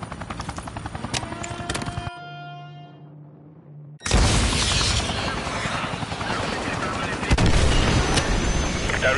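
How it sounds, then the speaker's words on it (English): A video game missile strike on an enemy helicopter: rotor and gunfire noise, a brief near-silent lull with a low hum, then a sudden loud blast and a sustained roaring burst of combat noise. "Direct hit on the enemy helo."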